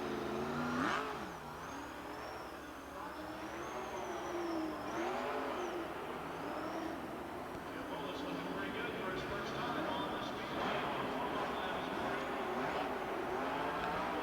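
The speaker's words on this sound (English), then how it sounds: "Molis now getting that car pretty wide around the turns." A sprint car from the World of Outlaws series laps the indoor speedway at the Florida Suncoast Dome, its engine revving and surging steadily throughout while an announcer talks over the racing.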